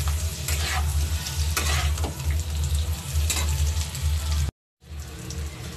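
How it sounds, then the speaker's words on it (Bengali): Boiled potatoes fry in hot oil with salt and turmeric, making a loud, steady sizzle close by, broken by scraping stirs and a brief cut to silence before the frying resumes. "সিদ্ধ করে রাখা আলুগুলো এই তেলের মধ্যে দিয়ে ভেজে নেব"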